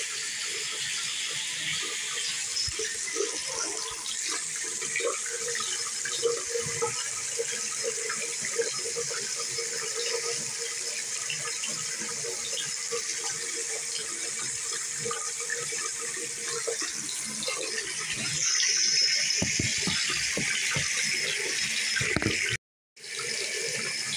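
Tap water running steadily into a sink during face washing, a constant splashing hiss that grows a little fuller near the end before cutting off briefly.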